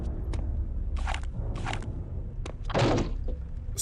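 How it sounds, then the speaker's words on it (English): A locked door in the Return to Castle Wolfenstein video game gives a few short, dull rattling thunks and knocks, spread across a few seconds over a low ambient game hum. "Some locked door sound effect for no reason."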